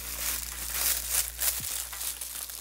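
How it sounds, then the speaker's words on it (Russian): Parcel boxes and plastic packaging rustle and crinkle close by in soft, irregular bursts over a low steady hum, with no talking. "что тут будет очень раздражающее шуршание коробок и упаковок"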